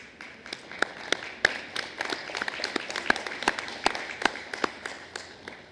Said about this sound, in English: Give them a wave of thanks and a round of applause